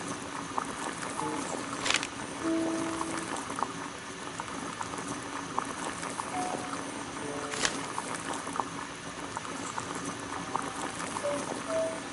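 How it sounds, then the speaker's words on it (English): Kettle of water heating on a gas burner, a steady close bubbling and hissing boil with faint patter, plus a couple of brief clinks over the constant simmer. "Boil water in kettle."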